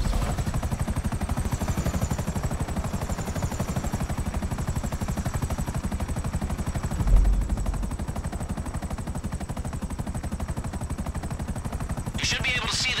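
A helicopter in GTA V, its rotor chopping in a rapid steady pulse throughout, loud and close, with a brief thump midway and a burst of game sound at the end.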